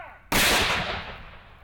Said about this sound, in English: Cannon fire and gunfire from 18th century weapons could be heard throughout the day at Ridgeview Park